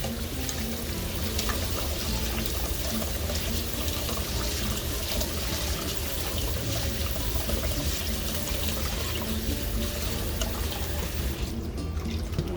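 Tap water runs steadily as rice is rinsed in a strainer in a home kitchen, a continuous close splashing hiss throughout with no talking.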